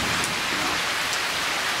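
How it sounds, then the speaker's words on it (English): Heavy rain pours steadily in a dense, continuous hiss, with thunder rumbling low in the background. "Hear that thunder?"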